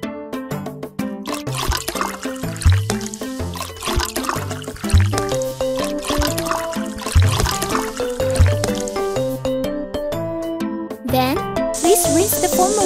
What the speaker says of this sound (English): Let's give the puppy a shower.